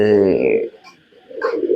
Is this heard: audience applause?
no